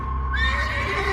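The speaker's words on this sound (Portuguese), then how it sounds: "E ao longe, eles ouviram um relinchar de cavalo." A horse whinnies loudly and close, one sustained rising-then-wavering neigh lasting about a second over a low steady hum.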